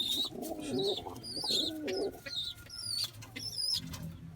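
Pigeons cooing softly while a squab is fed, low repeated coos mixed with higher chirps and calls, close by but faint.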